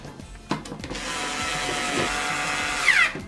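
A power driver whirs steadily as screws are tightened on a TV bracket being mounted on plasterboard, preceded by a sharp knock and rising in pitch near the end.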